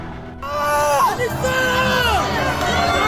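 An angry stadium crowd of FC Seoul fans after a 2-3 loss to Daegu FC, with loud overlapping shouts and yells, raised voices rising and falling over a dense babble close by.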